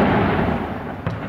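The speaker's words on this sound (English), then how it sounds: "That's cannon fire." Cannon fire booms over a Norwegian harbor city on Constitution Day, May 17th, as a loud, dense rumbling blast fills the air, with a sharper crack near the end.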